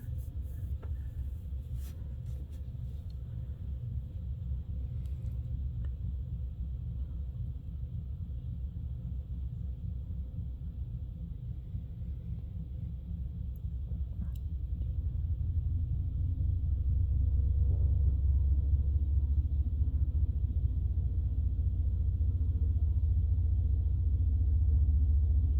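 An ex-Citirail CN freight diesel locomotive opens up its throttle, a low rumbling drone that swells louder and heavier about halfway through and holds steady, heard from a distance with no talk.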